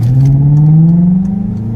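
Volkswagen Passat with a W8 engine revving, a loud, close, smooth engine note that climbs steadily in pitch over a brief moment before easing off.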